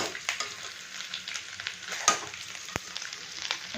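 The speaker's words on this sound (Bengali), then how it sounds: "শুটকি মাছটা আমার ভালো করে ভেজে নিয়েছি" Oil sizzles and crackles steadily in a pan as dried fish fries, with occasional sharp clicks and scrapes of a utensil, close and fairly loud, no speech.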